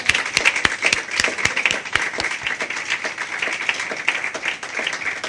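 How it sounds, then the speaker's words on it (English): A small audience at an educational handover ceremony claps after a presentation, a lively patter of hands with a few sharp individual claps standing out, fairly close and loud, with no talk. "Give her another round of applause."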